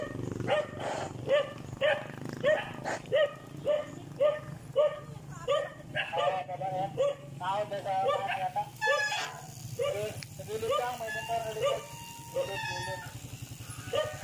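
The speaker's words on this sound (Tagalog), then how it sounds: "may habol ng aso kaya umaba ako" A dog chases and barks in repeated sharp, close bursts with a few whimpers, while people talk in the background.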